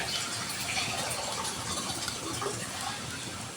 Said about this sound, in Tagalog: dadagdagan nyo pa siya ng konting tubig